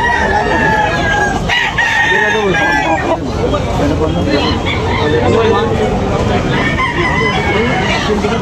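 Roosters crow loudly and repeatedly among clucking fowl at a busy chicken market in Tabunok, Talisay, with crowd chatter running underneath.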